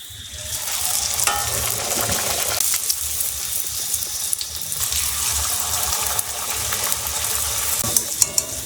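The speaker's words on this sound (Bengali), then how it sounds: "তেল গরম হয়ে গেছে মেলে দিয়েছি লুচি" Luchi, the Bengali puffed flatbread, sizzles and bubbles steadily in hot oil in a home kitchen, a dense continuous crackle with occasional sharper pops and light clatter.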